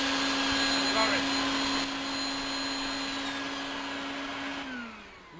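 A dust extractor vacuum for a Festool Domino joiner runs with a steady, loud whining roar and a constant hum throughout. It then winds down in pitch near the end.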